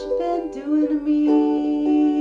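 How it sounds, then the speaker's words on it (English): Ukulele fingerpicked for a fake solo driven by the right hand, with sustained plucked notes forming a short melodic line, close and clear with no talking. "I'm going to show you how to take a fake solo using just the skills of your right hand."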